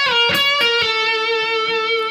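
Distorted electric guitar plays a short phrase from a riff with a blue flat-five note, a few picked attacks ringing into a sustained bent note, loud and alone.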